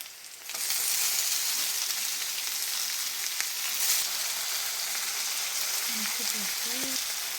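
Onion and tomato sizzling and frying in a pan for a plantain-stem stew, a steady close hiss with a few faint tonal clinks near the end, no talking.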